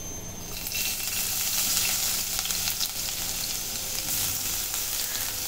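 Crushed garlic sizzles in hot oil, a loud, steady broadband crackle and hiss that holds for several seconds with no voices.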